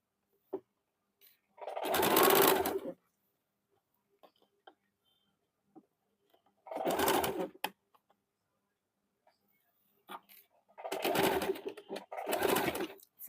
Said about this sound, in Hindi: अभी मैं आप लोगों को ये सिल के बताती हूँ।